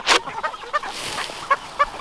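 Several chickens cluck in short, scattered bursts, close by, with a sharp squawk at the start and quiet stretches between calls.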